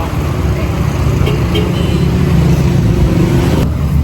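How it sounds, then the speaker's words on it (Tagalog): Steady road traffic from vehicles pulling out near a roadside coconut stall in Tukuk, San Fabian, Philippines, a continuous low engine rumble with cars passing close by and no break. "maingay dito actually kasi maraming lumalabas na sasakyan"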